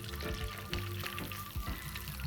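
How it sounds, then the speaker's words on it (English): Chicken drumsticks fry in oil over a low flame, giving a soft, steady sizzle with a few louder bubbling bursts and faint clatter, no one speaking. "Put the chicken drumstick for frying for at least 8 minutes or till you get a nice golden brown color."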